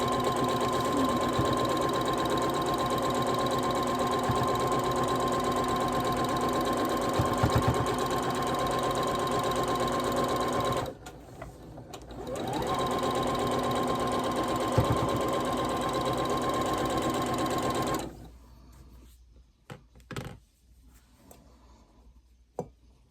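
Home sewing machine stitching a gnome quilt block, a fast steady mechanical hum with a high whine, pausing briefly midway, then stopping near the end into quiet handling noises.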